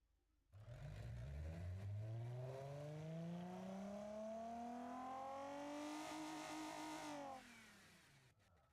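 A custom classical V6 car engine in a video game revs up in one long sustained climb, its rising whine held loud and steady for several seconds before cutting off.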